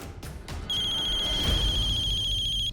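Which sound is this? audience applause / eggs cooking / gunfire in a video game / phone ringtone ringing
phone ringtone ringing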